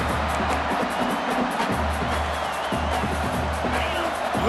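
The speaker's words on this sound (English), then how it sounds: "Listen to this crowd just shaking the girders of this place" A large stadium crowd in the video game EA Sports College Football 26 roars steadily, a dense wash of cheering and noise with a low rumble underneath, no clear voices standing out.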